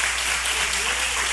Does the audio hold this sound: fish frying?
no